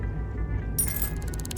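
Coins being picked up in the detective video game Shadows of Doubt: a sudden bright metallic jingle followed by a run of quick, evenly spaced clinks that fade out over a steady low background hum.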